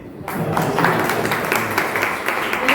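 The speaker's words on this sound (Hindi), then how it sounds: "अच्छा लगे तो तालियां दीजिए।" Audience applause at a Hindi poetry recital in Mumbai: a dense, steady patter of many hands clapping fills the room for a few seconds, fairly loud and without any voices.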